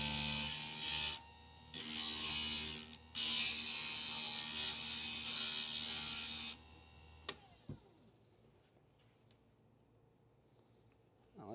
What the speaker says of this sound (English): We're going to grind that down